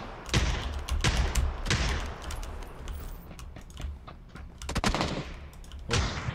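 PUBG gunfire with sniper shots: sharp, loud cracks and short bursts come at irregular intervals, some close and some more distant, over a low background rumble.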